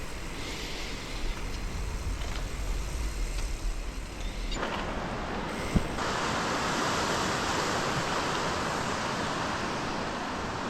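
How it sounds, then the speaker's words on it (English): Fast-moving Lehigh River water rushes in a dense, steady broadband roar, heard close during a gravel bike ride with some wind buffeting the microphone and a shift in tone midway, no voices present. "The river's moving pretty good"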